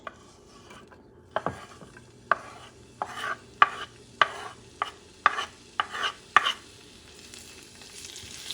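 Red pepper, green pepper and onions sautéing in a preheated pan, with a series of sharp spatula scrapes and taps at a steady rhythm over a soft sizzle, close and alone.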